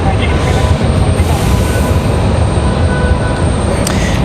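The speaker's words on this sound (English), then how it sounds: "United is Republic Airways 3447 headed to Washington Dulles" A Republic Airways CRJ regional jet flying as United 3447 to Washington Dulles passes at Raleigh-Durham International at sunset, a loud steady broadband roar that holds for the whole stretch with no break.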